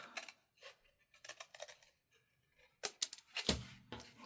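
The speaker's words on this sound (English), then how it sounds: "And then I'm going to cut along my fold." Scissors cut along a fold in paper while making a small craft packet, giving soft, close snips in irregular bursts with brief pauses and a sharper crunch near the end.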